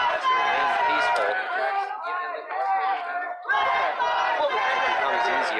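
A peaceful crowd of protesters in Kenosha, Wisconsin, during the August 2020 unrest chatters and calls out in a dense, steady babble of many voices close by, with a brief lull in the middle.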